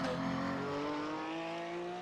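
A Porsche GT3 race car at Bathurst in a racing game holds a steady, high-revving engine note with a slowly rising pitch. The sound is close and continuous and carries a faint backdrop of other noise.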